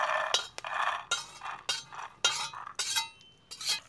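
Roasted peanuts tipped from a kadhai onto a plate, giving a run of close, bright clinks and rattling scrapes of metal and nuts in uneven bursts, with no talking.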